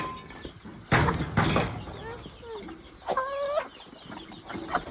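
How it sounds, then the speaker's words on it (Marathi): Free-range chickens and roosters on a home farm in India, being let out of their coop to wander and graze, cluck in short bursts and brief squawks, fairly close, mixed with scattered rustling and a person talking nearby. "शिव कोंबडे मोज आपले किती इथं"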